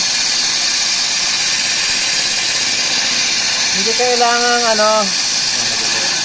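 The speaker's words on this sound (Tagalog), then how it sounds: "didrill dito uli sa part na to" Drill boring a hole through a glass pane, a steady high grinding whine running throughout with a brief rising tonal squeal near the end, close and fairly loud.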